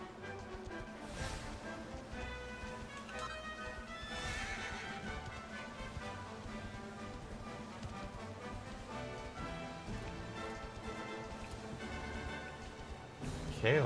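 A horse whinnies loudly twice in a video game, then hooves clip-clop in a steady galloping rhythm over the game soundtrack, ending with a sharp jolt.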